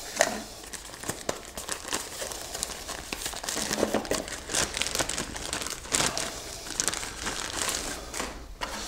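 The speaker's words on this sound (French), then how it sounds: "je vais le déballer" Packaging crinkles and crackles continuously up close as a compact six-port Netonix WS-6-Mini PoE network switch is unboxed, with dense plastic rustling and occasional tearing sounds.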